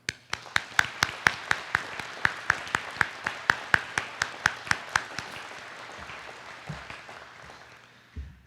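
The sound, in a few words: audience round of applause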